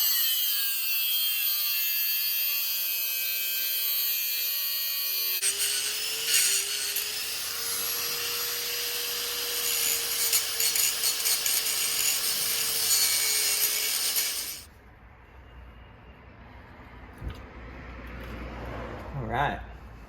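A tool cuts into an airbox mount on a Shelby Dodge Daytona Turbo Z so it clears a line, a loud, harsh, sustained grinding through the middle of the clip before quieter workshop noise.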